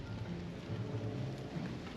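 Rain falls steadily on an evening at Disney Springs in Orlando, a soft continuous hiss with a low rumble beneath, faint and even throughout with no voices.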